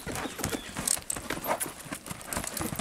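A spirited picazo overo horse clip-clops along during rein training, its quick hoofbeats close and continuous beside jangling tack, with no talk over them.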